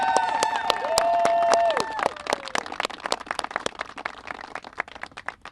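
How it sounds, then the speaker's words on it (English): A crowd at a political rally calling for a presidential impeachment claps in scattered, sparse bursts, nearby and moderately loud. Sustained whistles or horn tones ring out over the first two seconds, then the clapping thins out irregularly. "Can we get one more round of applause for Representative Al Green?"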